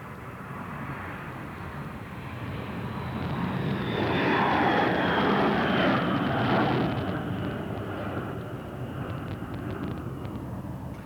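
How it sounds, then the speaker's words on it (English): B-52 bomber taking off during the 1999 NATO Kosovo operation, a distant jet roar building to a loud peak midway, then slowly fading while staying strong, with no talking. "And the third and final plane now taking off."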